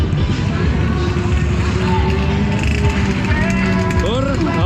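A two-stroke motorcycle passes by at a nighttime national two-stroke motorbike meet, its buzzing engine loud and steady over crowd babble before a rising whine near the end.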